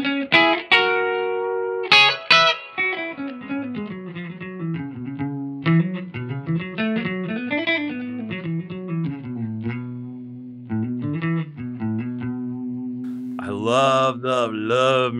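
Kauer Razer Crest Gripen electric guitar with Lollar La Prima pickups, played on the middle pickup position with an effects-laden, slightly distorted tone: a snappy, clean-ish melodic lead line of ringing single notes and chords, loud and close, alone without talk.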